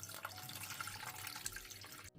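Water pours steadily into a pot of beef pieces as a cooking liquid is added, a faint continuous splashing rush that cuts off abruptly at the end.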